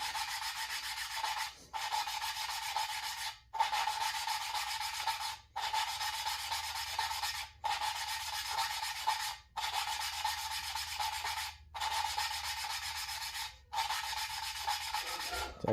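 Engine valves on a Farmall Cub tractor are lapped by hand, a steady gritty rubbing that repeats in about eight even strokes of roughly two seconds each, separated by brief pauses, close and fairly loud.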